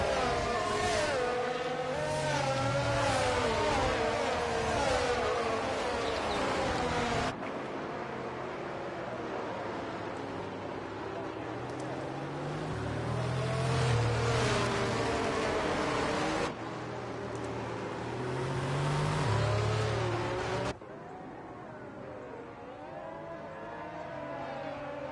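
Race cars in a racing video game run behind a safety car, steady engine drones shifting pitch as they drive. The sound is moderately loud and continuous, with abrupt cuts between segments.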